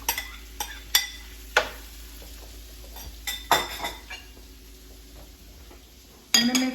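Shrimp fry quietly in garlic butter in a pan while a utensil scrapes and clinks against it in scattered, sharp knocks.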